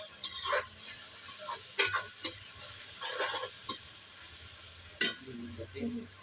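Onions, tomatoes and green chilies stir-fry in a pan for poha and potatoes, with soft sizzling under intermittent scraping and stirring clicks, close and moderately quiet.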